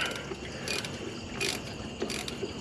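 A wrench ratchets as a bolt is backed off a Clark Michigan 125A oil filter canister, giving close, repeated clicking strokes in an uneven rhythm over a mechanical background.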